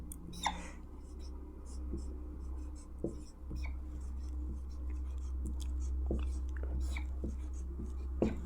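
Pen or chalk writing out a maths equation during a Hindi-language class 10 algebra lesson, with short scratchy strokes in irregular bursts, faint against a low steady hum, while a teacher speaks quietly.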